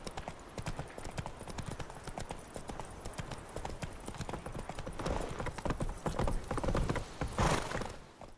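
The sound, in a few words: horse Roach running, hooves, from video game The Witcher 3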